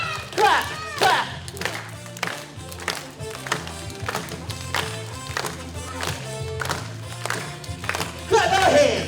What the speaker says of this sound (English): Let's clap our hands. Clap our hands. Clap, clap, clap.